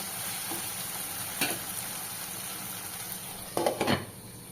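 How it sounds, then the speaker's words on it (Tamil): Tomatoes sautéing in a pan for an egg gravy give a soft, steady sizzle and fry hiss, broken by a couple of brief scrapes and clinks of a stirring spoon against the pan. "இப்போ தக்காளிலாம் நல்லா சாஃப்ட் ஆகணுங்க அது வரைக்கும் நல்லா வதக்கிக்கோங்க"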